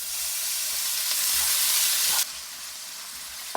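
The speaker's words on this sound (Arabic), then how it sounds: "ونحمس وياه شوية ثوم" Garlic frying with pieces of meat in a pan for a chilli fry, a steady loud sizzle with a hissing crackle that drops in intensity partway through, ending with a faint clink.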